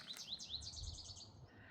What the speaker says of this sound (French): Tu entends les oiseaux?